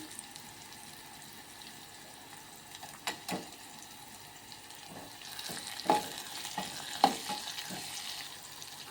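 Paste sizzles and spits faintly in hot oil, with occasional stirring clatters against the pan.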